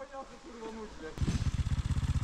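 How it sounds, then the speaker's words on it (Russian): A moped engine revs hard, clearing its exhaust, with a rapid pulsing throb that starts abruptly midway and stays loud and close after a stretch of speech. "прогазовывает мопед, так сказать, чистит выхлопную трубу"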